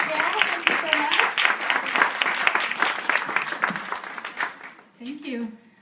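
Audience applause fills a full room at a library evening event, welcoming a speaker: steady, dense clapping for about five seconds that thins out, then a voice begins talking.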